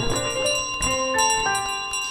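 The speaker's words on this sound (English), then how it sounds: "there's a bigger bell" A bell in Untitled Goose Game rings out repeatedly in quick metallic strikes, each leaving a bright sustained ringing tone that overlaps the next, loud and clear with no talk over it.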